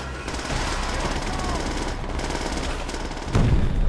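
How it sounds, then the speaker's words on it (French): Enemy machine gun fire in the war shooter Call of Duty: World at War, a dense continuous rattle of rapid shots with a heavier blast near the end, loud and close, with a voice underneath. "Mitrailleuse ennemie! Mitrailleuse."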